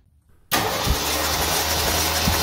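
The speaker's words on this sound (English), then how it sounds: "Here you see the engine starting." After a near-silent moment, a 1977 Jeep CJ5 engine that sat for 14 years is cranked over without firing, bursting into a loud, steady mechanical churn with low rhythmic pulses, close up.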